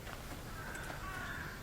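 Crow cawing in the video game Hello Neighbor 2, a short harsh caw or two against a steady hissing ambient background.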